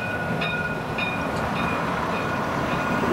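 The Harlander driverless bus in Belfast runs with a steady, continuous rumble and whirring hum heard from inside, with faint tonal whines and light clicks over the constant drone.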